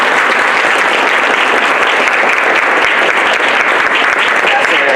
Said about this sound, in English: I really just want to give one more round of applause to Rose